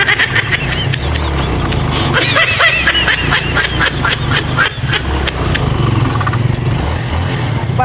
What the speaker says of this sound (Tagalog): nahirapan na talaga ang motor